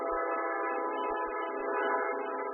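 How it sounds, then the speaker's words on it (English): A train whistle sounds in the background during a football game, a steady, sustained multi-tone blast held throughout without any talking. "I don't know if you can hear that train in the background signaling first and 10 for"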